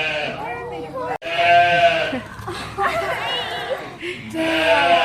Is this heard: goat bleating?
yes